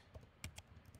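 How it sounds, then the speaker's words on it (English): Keys tapped on a computer keyboard in a few quick, light clicks, close up and quiet, with one slightly sharper keystroke among them and no talking. "I'm just typing the wrong command again and again"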